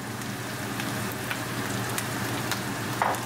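Brussels sprouts and onion sizzle steadily in a hot pan, a continuous crackling fry with scattered sharper pops and occasional stirring scrapes, close and moderately loud with no talk.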